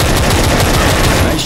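Rapid automatic gunfire in the video game Left 4 Dead 2, a dense continuous rattle of shots, loud and close throughout the short burst.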